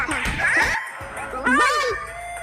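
A dog barks and yips in short, excited bursts with whimpering tones, loud and close, with voices overlapping the calls.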